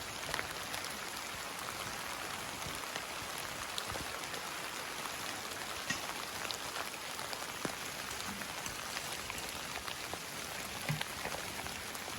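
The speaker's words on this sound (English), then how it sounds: "We're getting much needed rain right now." Steady, fairly soft rain falling outdoors, a continuous hiss of drops with occasional louder individual splashes.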